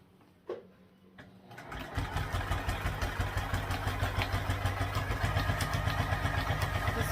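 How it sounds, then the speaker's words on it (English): Sewing machine stitching a thick multi-layer tote bag seam at a half-inch allowance, starting after a few clicks and settling into a steady, loud, rapid needle rhythm that runs alone to the end. "So we'll just sew this one on at 1/2 inch seam allowance as well."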